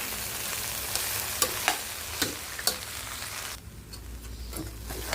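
Rice for mango khichuri fries in a cooker with a soft, close sizzle and a few sharp stirring knocks. The hiss thins out and drops quieter toward the end.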